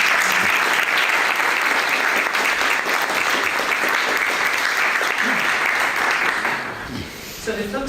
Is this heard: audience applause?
yes